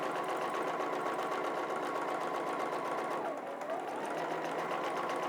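A sewing machine free-motion quilting triangle shapes runs in a fast, continuous, close-up stitching whir, with a brief dip in pitch partway through and no voices.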